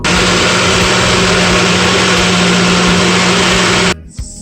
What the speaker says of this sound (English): You're gonna place it on the blender or your NutriBullet.